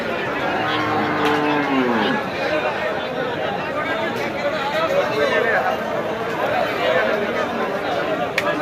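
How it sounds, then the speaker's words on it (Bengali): At the Lalmai Chandramora cattle market in Comilla, a cow lets out one long moo early on amid a busy crowd, with chatter and people talking around it throughout. "লালমাই চন্দ্রমরা গরু বাজার"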